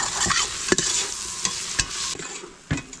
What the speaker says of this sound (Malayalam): തക്കാളിയും കൂടി ചേർത്ത് നന്നായിട്ടൊന്ന് വഴറ്റിയെടുക്കും